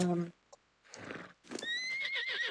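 A horse in the video game Ark whinnies in a rising, wavering neigh after some short thuds and hoof-like clatter, fairly close and clear.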